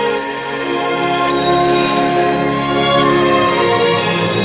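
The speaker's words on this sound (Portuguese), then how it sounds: "O som dos sininhos dava a velocidade da bola." Small bells sound as brass balls roll down an inclined plane, ringing in close succession with sustained, shimmering overtones. The tone is loud and fills the clip.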